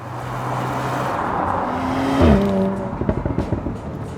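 Audi SQ5 with a 3-litre turbocharged V6 accelerating, its engine note rising in pitch as it builds speed and then dropping through a gear change, heard fairly close with a steady background rumble.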